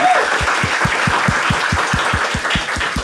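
A stand-up comedy audience clapping in quick, even unison, a rhythmic run of loud, close claps at a steady beat for a few seconds.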